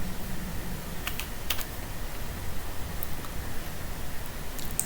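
Python code is typed on a computer keyboard: a handful of sparse, faint key clicks stand out over a steady background hiss, with no voices.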